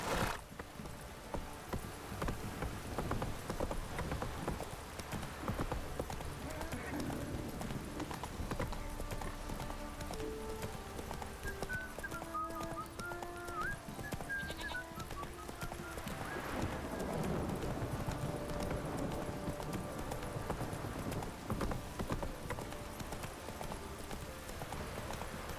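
Roach the horse galloping in The Witcher 3, a long run of rapid hoofbeats with a whinny partway through, set against game music and ambient sound.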